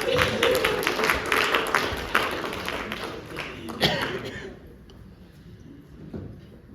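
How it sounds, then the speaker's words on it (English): An audience at a speaker talk applauds as a volunteer comes to the stage: several seconds of dense, fairly close clapping that thins and fades out into quiet. "Big round of applause, come on down"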